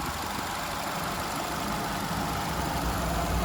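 A 2020 Nissan X-Trail ST seven-seater idles smoothly and steadily, its engine a continuous even rumble close by with no pauses or revving.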